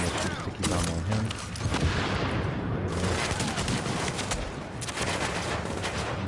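Gunfire and a sticky bomb in The Division shooter game, a dense continuous barrage of shots and explosive booms, loud throughout with little break.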